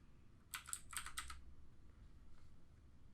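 Typing on a computer keyboard while working in texturing software: one short, close burst of several quick key clicks, then quiet room tone, with no talk.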